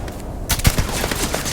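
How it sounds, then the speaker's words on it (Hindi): Hunting rifle gunfire in the sci-fi video game Starfield, a quick burst of sharp, loud shots with booming low thumps over dense game background noise. "अब इसके लिए निकालते हैं हंटिंग राइफल।"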